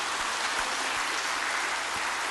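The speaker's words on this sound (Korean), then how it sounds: "은혜 주신 하나님께 영광의 큰 박수 합시다" Church congregation applauding, a dense, steady wash of clapping from many hands filling the hall, sustained and even throughout with no voices standing out.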